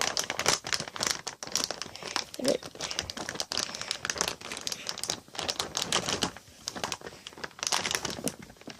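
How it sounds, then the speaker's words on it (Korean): Plastic packaging for a wearable toy arm is torn open by hand without scissors, producing close, busy crinkling and ripping bursts in quick uneven succession. "이렇게 찢어서 줍니다."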